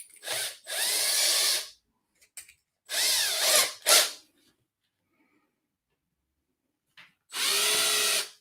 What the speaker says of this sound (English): And we're going to switch drill bits over to our LED hole.